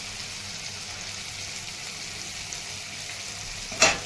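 Curry leaves sizzle in hot oil with turmeric and coriander powder masala for potato bhaji, a steady close frying hiss throughout, with a sharp crackling burst near the end.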